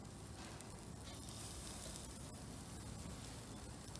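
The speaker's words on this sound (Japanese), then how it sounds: "ジュージュー言うと思います。" Mackerel and hokke fish sizzle on a charcoal shichirin grill, a steady, close, continuous crackling hiss with fine pops that holds even throughout, with no talking.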